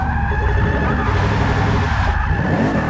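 A VL Commodore on drag tires drifts in Forza 6, its engine droning loud and steady while tire squeal runs continuously through the slide.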